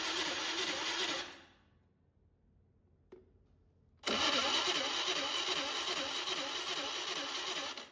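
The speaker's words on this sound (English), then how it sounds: "hold the brake and start the engine" A four-cylinder engine on a balancing machine test rig runs loudly, cuts out into near silence for about three seconds with a small click, then cranks and fires back into a steady close roar.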